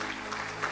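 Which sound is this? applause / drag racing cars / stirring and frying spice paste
applause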